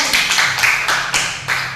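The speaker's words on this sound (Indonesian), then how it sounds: "tepuk tangan" Several sharp hand claps in an uneven rhythm from a school classroom, close and fairly loud, a short burst of clapping.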